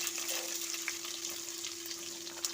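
Green chili and onion frying in a pan over low heat, a steady soft sizzle with a faint constant hum and occasional light crackles, no voices.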